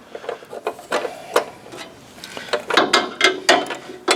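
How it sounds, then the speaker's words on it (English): A ratchet wrench turning a 13/16 spark plug socket to loosen a spark plug on a Snapper zero-turn mower gives close, sharp clicking bursts in uneven short runs, with brief pauses between strokes. "I'm just going to take a 13/16 spark plug socket and see if I can get it off."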